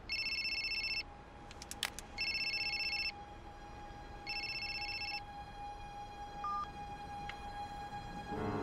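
A telephone rings in a scene from the TV series Lost, sounding as repeated bursts about a second long separated by short pauses, over a steady sustained music tone.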